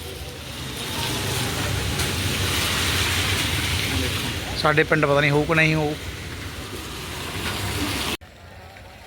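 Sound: rain falling

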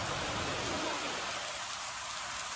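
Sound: rain

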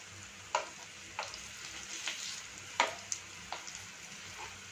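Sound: broccoli cutlet frying in a pan

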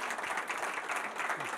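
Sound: audience applause for an author

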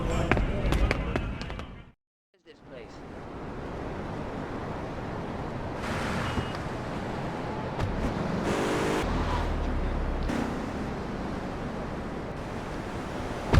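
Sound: car driving in GTA Vice City video game

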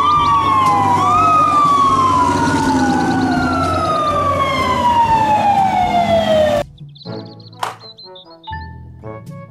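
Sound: toy fire truck siren

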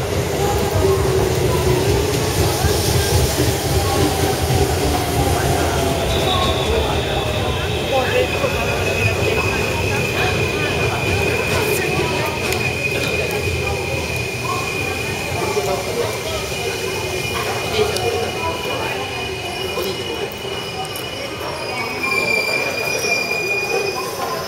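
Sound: express train to Tokyo arriving and passing

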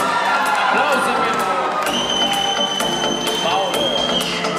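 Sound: audience applause and cheering

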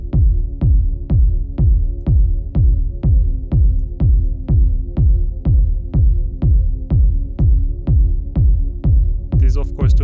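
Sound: deep techno pad with flanger or phaser modulation

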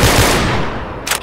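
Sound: rapid gunfire in Garry's Mod video game

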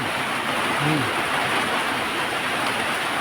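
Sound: heavy rain

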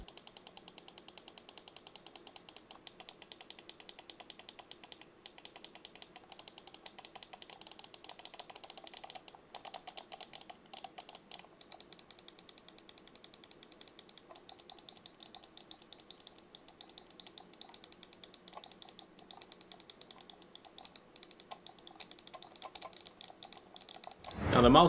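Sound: Endgame Gear XM1 RGB gaming mouse button clicks

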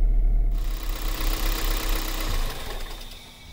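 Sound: Toyota Rav4 1.8L 1ZZ-FE engine idling after IACV cleaning

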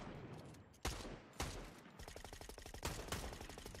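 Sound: sniper gunfire in the Fortnite video game

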